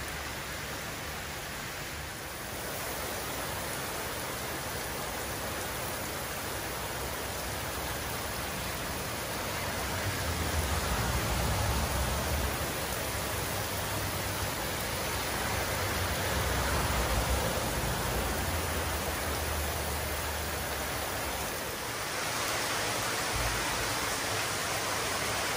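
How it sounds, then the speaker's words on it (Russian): Heavy pouring rain in Jacksonville, Florida, a dense, continuous hiss of water that swells slightly in intensity midway and stays steady throughout, with no voices. "вот так поливает, как из ведра"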